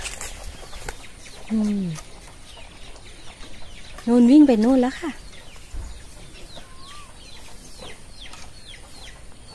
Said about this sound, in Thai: เขาเรียกแม่ไก่หุยตัวนู้น เขาฟักลูกเรียบร้อยแล้วค่ะ มีลูกไก่ ตัวเล็กๆ